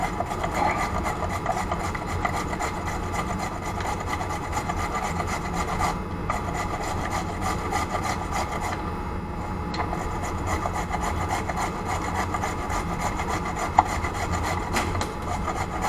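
Carrots rubbed quickly against a grater in a kitchen, a continuous steady rasping scrape that carries on without a break.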